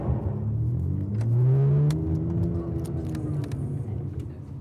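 A Ferrari Testarossa engine revs, its low droning tone climbing and falling in pitch at close range, loud and steady with no talk over it.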